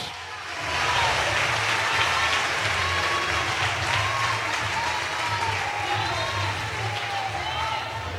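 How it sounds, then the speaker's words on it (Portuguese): A church congregation applauds at a Sunday service, with sustained steady clapping filling the room, an organ or keyboard tone beneath it and voices calling out over the noise. "Aplauda Jesus"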